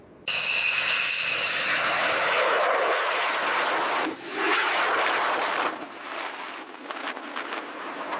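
A B-2 Spirit stealth bomber takes off at full power, its jet engines roaring loudly and steadily, a brief dip midway, then the thunder fading slightly as the aircraft climbs away.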